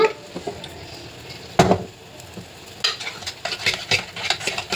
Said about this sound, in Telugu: మసాలా వేసుకొని మళ్ళీ ఒకసారి కలపాలి. ఇలా కలుపుతూ ఉండాలి.